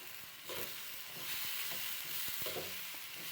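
Chopped green beans fry in a pan for a stir-fry with egg, giving a faint, even hiss with occasional soft stirring knocks.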